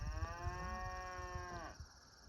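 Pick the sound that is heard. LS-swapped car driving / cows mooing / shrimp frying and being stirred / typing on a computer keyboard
cows mooing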